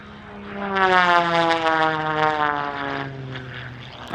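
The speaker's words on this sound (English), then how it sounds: "here Matt is demonstrating some of the techniques of the air race, flying at extreme low level around a course of imaginary pylons" A propeller aircraft making an extreme low-level air-race-style pass around imaginary pylons at an airshow, a loud droning engine whose pitch slides down as it sweeps by close overhead.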